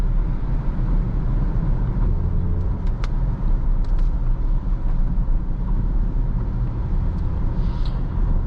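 Inside the cabin of a 2018 Jaguar F-PACE SUV, the 3.0 supercharged engine gives a steady, loud low rumble that runs unbroken throughout, with faint road noise on top and no talking.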